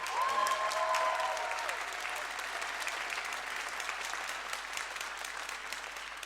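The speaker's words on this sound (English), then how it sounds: "So a super big round of applause to her." Sustained applause from the audience at a girls' varsity basketball awards ceremony, steady moderate clapping throughout, with a brief voice at the start.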